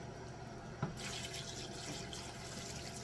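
Plain water runs steadily from a tap or is poured over vegetables in a pot for a bologna stew, a continuous close splashing flow.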